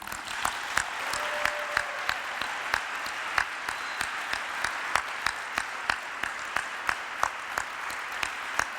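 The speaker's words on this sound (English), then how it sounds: "please give her the best applause that you possibly can give" Applause from the audience at a Latin dance partnering lecture, with sharp regular claps standing out over a steady, dense wash of clapping throughout.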